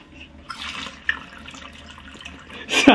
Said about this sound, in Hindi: काला पानी निकल रहा है।